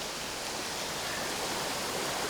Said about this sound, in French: C'est très apaisant, hein. Ça donne envie d'avoir une cascade chez soi.